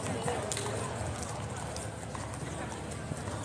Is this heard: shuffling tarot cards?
no